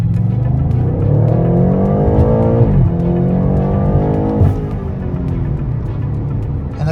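A 2020 BMW M8 Competition Coupe accelerating onto a road, the engine note climbing through gears with two shift dips, loud and close from inside the car.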